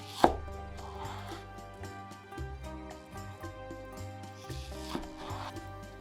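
Knife chopping tomato on a cutting board during a kitchen lesson, close and moderately loud, a sharp opening knock followed by steady low thuds and rocking cuts with soft scraping, and no voices.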